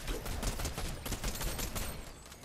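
Pump shotgun blasts in Fortnite Reload, a dense run of loud, overlapping gunfire bursts with steady battle noise throughout and no voices.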